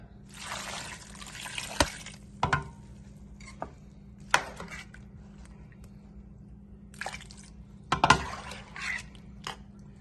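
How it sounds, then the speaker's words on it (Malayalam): Water is poured and trickled into a pot of ripe mango curry in bursts, with a few metallic clinks of the pot between pours, close and fairly quiet. "ഇത് വേവാനായിട്ടുള്ള വെള്ളം."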